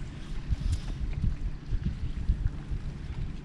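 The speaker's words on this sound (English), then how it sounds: "Here comes the pontoon boat." A pontoon boat passes by on a lake in the evening, its motor a low steady rumble with wind buffeting the microphone, continuous and moderately near.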